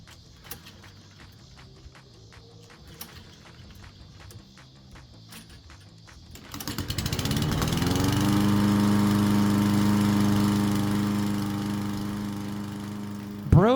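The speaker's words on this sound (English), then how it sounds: "And of course, starting the lawnmower." Close lawn mower stands quiet at first with small clicks, then pull-starts partway through and settles into a steady, loud running drone, ending with a sharp knock.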